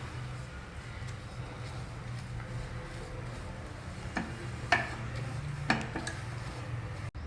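Wheat flour being stirred and fried in ghee over a low flame, a quiet low sizzle with occasional metallic clinks and scrapes of a utensil against the pan.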